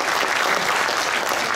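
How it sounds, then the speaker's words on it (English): An audience at a violin arangetram claps steadily in a dense, even burst of applause, loud and close with no gaps. "Let's give them a big round of applause."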